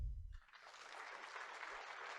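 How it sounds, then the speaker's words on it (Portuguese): Soft applause from an audience at a funeral-plan business presentation. A brief low sound comes first, then steady, even clapping continues at a distance. "Uma salva de palmas para ele"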